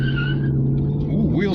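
Lexus LS400 luxury saloon with a suspected vacuum leak spinning its wheels at launch: a brief, close engine roar with a steady tone and a rising tyre squeal near the end.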